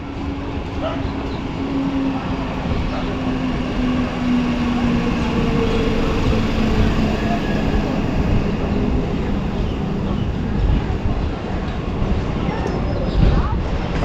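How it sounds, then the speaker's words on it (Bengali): Passenger train pulling into a station on the Plassey to Cossimbazar line, a continuous heavy low rumble and rolling noise filling the whole stretch, loud and close with no clear voices. "ট্রেন চলে আসলো এখন"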